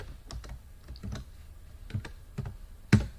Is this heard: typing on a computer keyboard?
yes